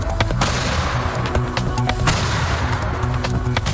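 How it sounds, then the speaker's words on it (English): Repeated sharp booms and cracks ring out in quick succession, loud and echoing over a dense rumbling background, like black-powder cannon fire. "it still makes firing a cannon a real blast"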